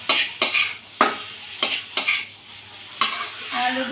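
Noodles tossed with a spice packet in a pan, a utensil scraping and clacking in sharp, irregular strokes about every half second over a soft sizzle.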